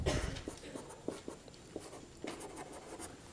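Chalk or marker writing on a board during a thermodynamics lecture, a series of short, light taps and scratchy strokes in an irregular rhythm, fairly quiet and close, with no talking over it.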